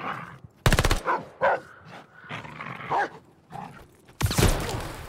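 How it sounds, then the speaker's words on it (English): Dogs from a K-9 unit bark in short, loud bursts amid gunfire-like cracks during a Call of Duty: Vanguard campaign mission, with game dialogue in between. "I hear dogs."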